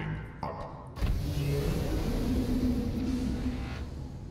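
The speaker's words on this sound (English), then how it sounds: "Engine powering up." A submarine engine powering up in the underwater game Subnautica, a soft click followed by a rising, steady mechanical hum and rumble that holds at an even level, no speech.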